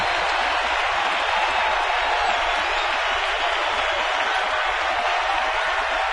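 Steady roar of a baseball stadium crowd during a game, a dense, continuous wash of cheering and noise from many people at fairly even loudness throughout.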